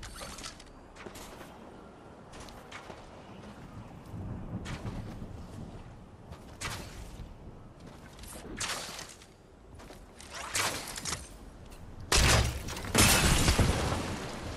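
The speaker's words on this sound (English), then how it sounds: "I hear like glass shatter after he shoots it" Glass-like shattering from a stink bow shot in Fortnite: sharp bursts of crackling breakage recur through a busy game mix, the loudest near the end.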